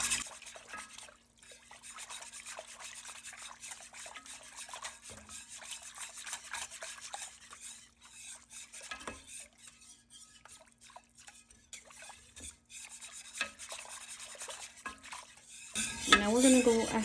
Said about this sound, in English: I'm gonna go ahead and give it a whisk